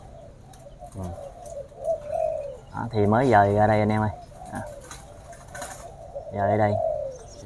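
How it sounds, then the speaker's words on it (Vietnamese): Pigeons coo in a bird farm, their repeated throaty calls coming in a few clear bouts close by, while someone talks in between. "Lâu quá rồi mới quay cho anh em xem lại mấy cái con chim ở trong trại."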